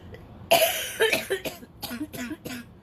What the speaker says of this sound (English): Like my cough.